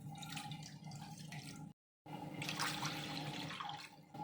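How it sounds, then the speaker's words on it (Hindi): Water from two glasses pours into a kadhai on a gas stove for boiling sweet corn, a splashing, trickling stream that stops briefly and resumes, close and fairly soft. "कढ़ाई में 2 गिलास पानी ऐड कर देंगे।"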